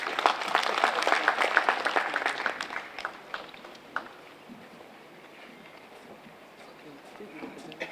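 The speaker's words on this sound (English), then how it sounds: "One round of applause for Professor OBIORA," An audience at a formal aviation gathering in Nigeria claps loudly at first, the applause thinning and fading to scattered claps, with voices murmuring underneath.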